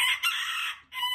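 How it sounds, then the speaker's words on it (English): A loud, close crow from a small rooster, a long shrill call that briefly dips and then resumes, with no talking. "These little roosters are super loud."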